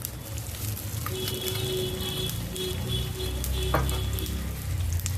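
Onion dropped into hot oil already seasoned with turmeric, sizzling and frying steadily in a pan for a home vegetable dish, with a continuous close crackle and occasional stirring scrapes throughout.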